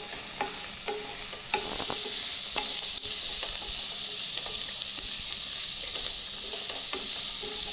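Carrot ginger soup with salt being stirred in a pot, a spoon scraping and clinking against the pot in repeated strokes over a steady, close, loud simmering hiss, with no talking.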